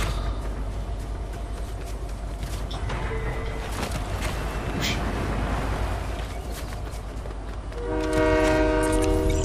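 A Fortnite train rumbles along with continuous heavy mechanical noise and clatter, then a loud sustained multi-tone horn blares near the end, close and prominent.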